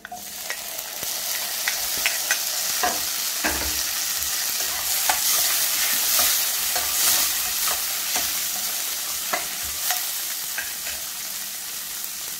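Tomatoes go into a pan of frying onions for a green chilli brinjal dish, a steady close sizzle broken by repeated spatula scrapes and stirring taps, with no talk.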